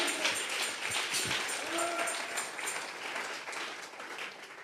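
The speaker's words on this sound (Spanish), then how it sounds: "Dele fuerte esas palmas al Dios de la gloria." A church congregation claps hands together during a Tuesday Bible study service, a steady wash of applause filling the room from start to finish with a faint voice mixed in.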